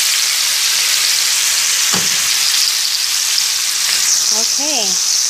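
Chopped banana heart fries in a pan with a loud, dense, continuous sizzle like heavy rain, with a brief clink near the middle and a short bit of voice toward the end.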